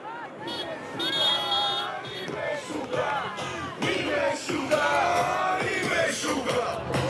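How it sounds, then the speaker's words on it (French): A crowd cheers, yells and whoops continuously while greeting passing cars on the road between Gaza and the Re'im military base, a dense babble of many voices at moderate distance. "La foule est venue saluer les voitures sur le chemin entre Gaza et la base militaire de Re'im"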